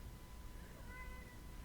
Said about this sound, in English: As I sit down, he starts meowing like crazy.